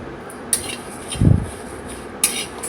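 Five-spice seeds stirred in a pan for raw mango pickle, with a few quick metallic scrapes and clinks of a spoon against the pan and one brief low knock, close and otherwise quiet.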